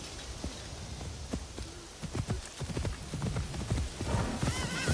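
A horse's hooves clip-clop at a steady walking rhythm in the video game Assassin's Creed Shadows, moderately close over a soft, rain-like ambient wash.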